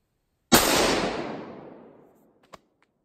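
A single sharp rifle shot from a custom-built 6.5 rifle fires close and loud, then rolls out in a long fading echo, followed about two seconds later by a faint distant impact.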